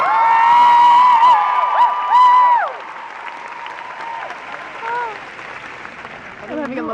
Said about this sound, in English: Can everybody please give them a round of applause for putting this amazing convention together?